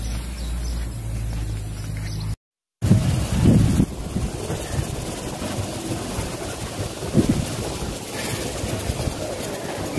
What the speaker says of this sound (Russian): Ветерок сегодня поднялся.